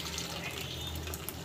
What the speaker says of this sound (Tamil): எஸ் தண்ணி ஷிஃப்ட் பண்ணிக்கலாம்.